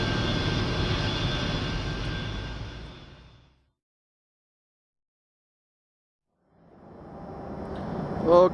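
A jet airliner taxiing out for takeoff at an airport, its broad engine roar loud at first, fading into silence, then returning and building toward the end.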